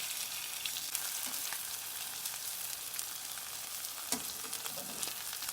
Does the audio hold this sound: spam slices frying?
yes